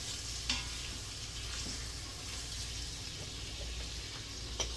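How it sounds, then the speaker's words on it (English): Onions sauté in a pan for Spanish rice, making a soft, steady sizzle with a couple of faint knocks as they are tossed, fairly quiet, with low background rumble and no talking. "Give my onions a quick toss so that they saute evenly."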